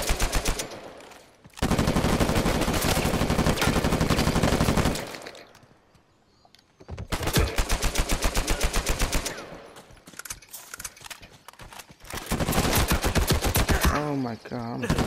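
Loud, sustained automatic gunfire from Uncharted 4 multiplayer, with rapid bursts of shots cut by brief pauses and dense volleys repeating close up.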